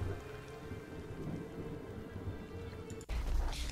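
Stormy weather in the seafaring video game Nantucket: steady rain hisses under a low rumble of thunder, then a sudden louder crack and surge of storm noise near the end.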